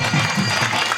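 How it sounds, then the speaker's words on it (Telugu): A temple wedding audience claps loudly and densely, a continuous wash of many hands at close range over a brief moment. "నమస్కారం తీసుకొని గట్టిగా చప్పట్లు కొట్టాలి"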